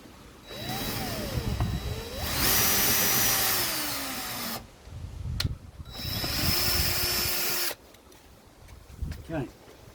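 Power drill boring holes for fitting VW jail bars, running in two long loud bursts with rising and falling motor pitch, separated by short pauses and handling noise.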